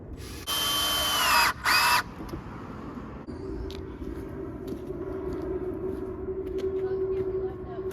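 A power drill drives 2.5-inch screws into a wooden workbench in a small garage shop: two loud, close whirring bursts near the start, then a quieter steady hum.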